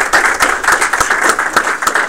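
Loud, close audience applause after a game studio build review, many hands clapping in a dense continuous patter with a few sharper individual claps standing out.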